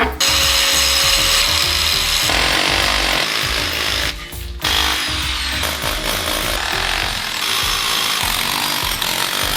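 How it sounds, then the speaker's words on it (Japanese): A power tool grinds and polishes a concrete garage slope while water is applied. The grinding drones loud and continuous, briefly dropping out midway before it resumes, with no voices. "水つけながら研いでいきます"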